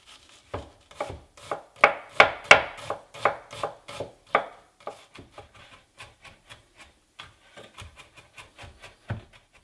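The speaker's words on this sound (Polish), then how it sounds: "Cebulę również bardzo drobno siekamy." A knife chops an onion finely on a board in a quick run of crisp, close taps that thin out into lighter, irregular cuts. No one speaks.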